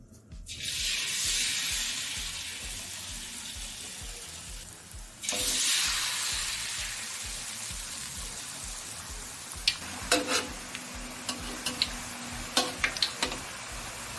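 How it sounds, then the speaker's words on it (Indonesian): Food frying over medium heat in a home kitchen, a steady loud sizzle that flares up as more goes into the pan, then a few light clinks of utensils, with no talking. "Nah, sekarang kita mau goreng. Kita masukin dengan api yang sedang."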